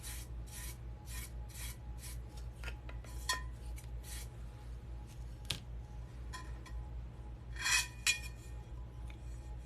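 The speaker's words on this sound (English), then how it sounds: "My ring is scraping against this tumbler." A ring scraping against a tumbler: a series of quick, close rasping scrapes in short bursts, a few sharp clinks in between, and a louder scraping flurry near the end over a steady low background hum, with no talk.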